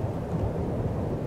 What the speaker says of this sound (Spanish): se escucha la lluvia, sonido del agua cayendo en el suelo